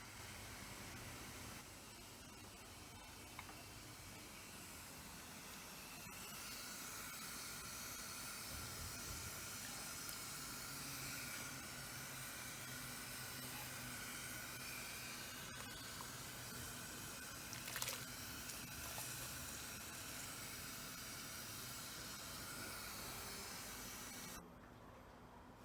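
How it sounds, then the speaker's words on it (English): A pot of cherries with wine-making ingredients on the boil gives off a steady, faint hiss and bubbling simmer that continues evenly throughout, with no talk over it. "So I've just at the moment just got all of that stuff on the boil"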